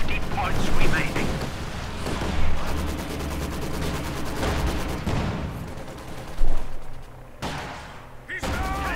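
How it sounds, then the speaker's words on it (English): Heavy machine gun fire in a Company of Heroes 2 battle, rapid rattling bursts with scattered artillery booms, mixed with shouted in-game voice callouts and battlefield noise. "Heavy machine gun!"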